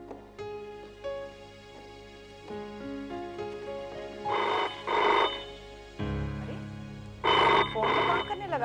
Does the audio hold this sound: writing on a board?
no